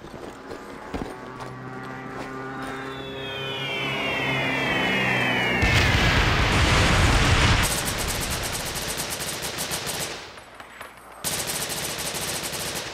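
An airstrike in the shooter game Devil's Third, with descending whistles, then a heavy, loud rumbling blast and a burst of rapid machine-gun-like rattling that cuts out and returns.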